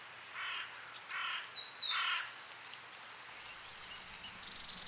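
Crows and seagulls call in a park in Rome, with a few harsh caws followed by thin chirping calls, moderately distant over quiet background and no speech.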